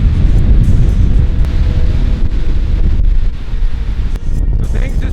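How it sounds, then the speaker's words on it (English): Strong gusting wind in a sudden wind storm, a loud continuous roar with low buffeting rumble battering close to the microphone for the whole stretch, easing briefly near the end. "Things just went from like kind of windy to like really sketchy."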